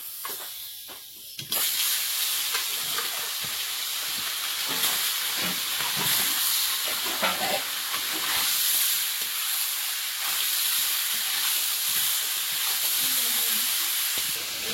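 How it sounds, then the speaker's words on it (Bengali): Shrimp sizzle in hot oil in a home kitchen, giving a steady, close, bright hiss that starts suddenly and keeps going with faint crackles, while people talk quietly under it. "বাবা এখানে আবার চিংড়ি ভাজা তো।"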